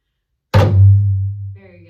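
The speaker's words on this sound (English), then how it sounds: "hit in the center of the drum with my hand nice and flat" A flat open-hand bass stroke lands on the center of a hand drum in a drum circle, giving one loud, deep thump with a long low ring, and a voice starts talking as it fades.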